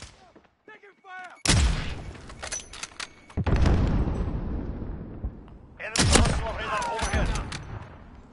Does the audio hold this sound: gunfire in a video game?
yes